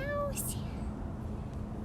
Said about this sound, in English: That other meowing you might hear in the background